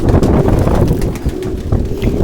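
Pigeons coo in a loft, a close, continuous low murmur of overlapping calls with some wind rumble against the microphone and no voices.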